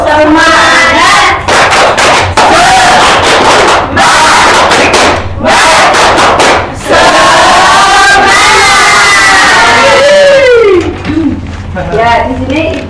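A primary school class shouts a rhythmic clapping chant together, bursts of claps and group voices in several quick sections with short pauses between, loud and close in a classroom.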